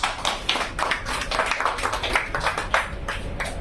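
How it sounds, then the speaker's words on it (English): An audience at a book launch event claps for a speaker's introduction, dense steady applause from many hands, fairly close and continuous for several seconds with no talk over it. "A big hand for her, please."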